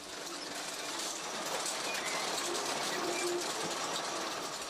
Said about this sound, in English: working with a high-tech machine which carves its way through the earth